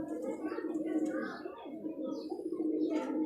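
Pigeons coo steadily in low, rolling tones, several birds overlapping continuously at moderate volume.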